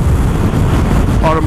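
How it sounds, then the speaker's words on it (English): Steady wind rumbling and buffeting the microphone outdoors at Arromanches, Normandy, loud and continuous throughout. "Still a bit windy."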